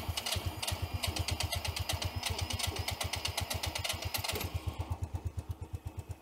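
A Sym Jet 14 fuel-injected scooter, suffering electronic problems, runs close by with a fast, even putter of engine pulses, settling into a slightly slower, uneven idle toward the end.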